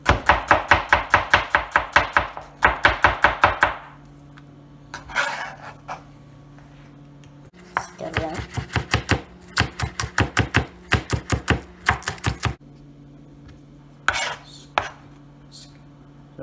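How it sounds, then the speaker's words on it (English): A knife chops onion and other seasoning vegetables on a cutting board, with rapid rhythmic bursts of sharp close taps, then pauses, scrapes and further runs of quicker chopping. "we're going to go right into cutting our ground seasoning"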